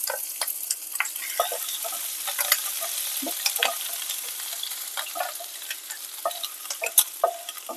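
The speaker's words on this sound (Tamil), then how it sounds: "எண்ணெய் நல்லா சூடானதும் எடுத்திருக்கிற ஜீரகம், வரமிளகாய் சேர்த்துக்கலாம். நல்லா பொரியட்டும்." Ginger and garlic frying in hot oil with cumin and dried red chili for a garlic and fenugreek dish, a steady close sizzle broken by frequent crackling pops and stirring, without talk.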